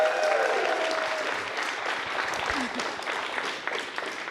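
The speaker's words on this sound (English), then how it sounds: "Let's give them a round of applause." An audience at a live event breaks into applause, a dense, fairly close wash of clapping that stays steady for a few seconds and then thins slightly, with a brief voice near the start.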